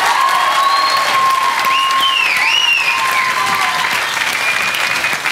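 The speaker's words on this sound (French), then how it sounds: "grand applaudissement pour amie de moi, chérie de moi, Christina" Studio audience applause for a guest named Christina on a French TV game show, loud and sustained throughout, with faint whistles and cheering tones riding over the dense clapping.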